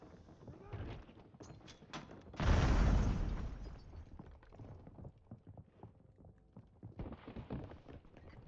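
A grenade blast in a first-person shooter game erupts as one loud, deep boom that rolls off over a couple of seconds, surrounded by quieter game sounds and clatter.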